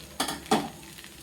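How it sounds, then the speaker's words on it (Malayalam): Soaked poha stirred in a frying pan with sautéed mix, two quick close scraping strokes of a spoon against the pan over a faint sizzle. "എന്നിട്ട് ഇത് നല്ലതുപോലെ ഒന്ന് ഇളക്കി"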